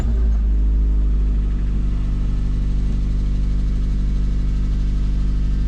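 Suzuki Swift engine running just after a home service, a steady, close, low idle with constant rumble and no talking.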